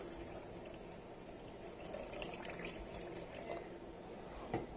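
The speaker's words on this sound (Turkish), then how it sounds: "Ilık suyu tam ortasından döküyorum." Lukewarm water is poured into a well in flour for pide dough, a soft, continuous low trickle heard faintly against a hissy room background.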